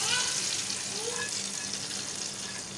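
Hot oil tempering for Lahori chickpeas hitting the dish with a steady, close sizzle that holds across the whole moment, faint hiss over a low hum.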